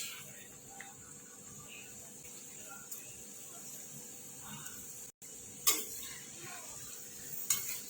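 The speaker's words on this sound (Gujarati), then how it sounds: "ગરમ થઈ ગયું છે આપણું તેલ તરી લઈશું" Namak para dough frying in hot oil gives a faint, steady bubbling sizzle at low level, with a few soft clinks of utensils against the pan scattered through.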